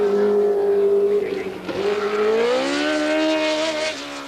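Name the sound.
race car approaching quickly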